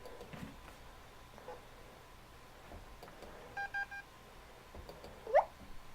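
A few short electronic tones and beeps from a PowerBook 520c laptop sound over a quiet background hiss, ending in a brief rising chirp, faint and sparse.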